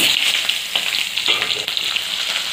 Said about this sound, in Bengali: এখন আমি ওই তেলের উপরেই